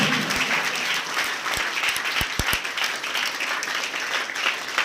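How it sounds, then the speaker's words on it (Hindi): Audience at a coaching-class event for 12th pass-out students applauds steadily as a student walks up to the stage, a dense, continuous clapping crowd with a few sharper claps standing out near the front. "आजाद कुमार जब तक स्टेज तक नहीं पहुंचा तक ताली बजते रहना चाहिए"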